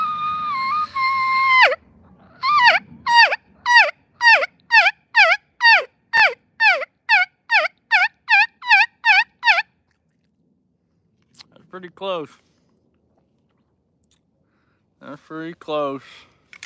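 Rubber mouth turkey call imitating a turkey: a long opening note, then a fast, evenly paced run of about fifteen loud, close yelps, followed after a pause by a few shorter, scattered calls.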